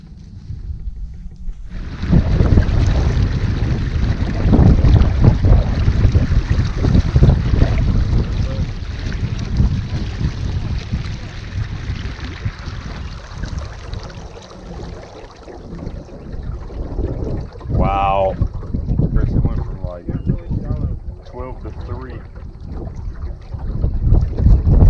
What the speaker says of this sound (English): Feels good out here in the wind though.